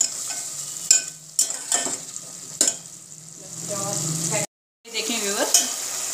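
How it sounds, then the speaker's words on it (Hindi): Potatoes fry in a pan with cinnamon pieces and a few cloves. A steady sizzle runs under sharp spoon scrapes and knocks, a brief silence falls near the end, then frying resumes, with no voices. "अब मैं इसको भुनाई कर रही हूँ।"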